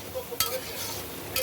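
Coriander powder goes into a hot frying pan and gets stirred, a brief sizzle with scraping strokes and a couple of sharp utensil hits, close and fairly loud.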